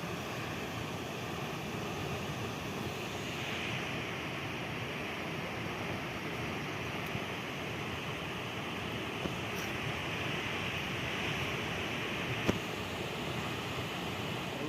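Hirdpat waterfall near Jawhar pours in a steady, dense rush of falling water that holds at an even level throughout, with no voices over it.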